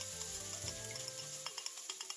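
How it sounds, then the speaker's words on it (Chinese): Onion sizzling in a hot oiled wok during a stir-fry, a steady bright hiss with light crackles and a few stirring taps, close and alone without talk. "煸香洋葱"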